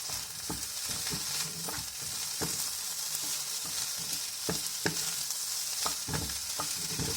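Pork fried rice sizzles in a hot pan as it is stir-fried, a steady frying hiss with repeated scraping and tapping of the spatula against the pan, close and continuous with no talk.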